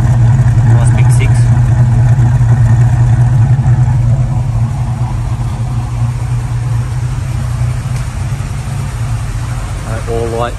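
A Valiant Charger's big six-cylinder engine idles steadily through a poor exhaust pipe, a loud, continuous low rumble with slight rev variations throughout.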